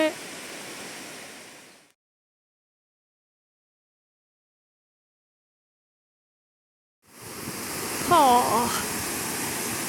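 A waterfall near Chiang Mai roars as a broad, steady rush, loud at the start, cutting to silence, then returning with a brief voice over the water noise.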